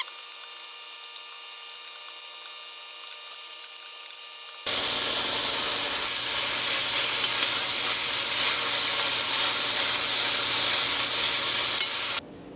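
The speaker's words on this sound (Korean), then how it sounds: "1분 후에 고기를 넣고 강불로 2, 3분 정도 같이 볶습니다." Thin pork belly slices are stir-fried with sauce over high heat. After a quieter start the pan bursts into a loud, steady sizzle that stays intense until a sudden stop near the end.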